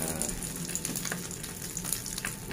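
Mackerel frying in a small nonstick pan, a steady dense sizzle and crackle of hot oil, close and continuous with faint stirring.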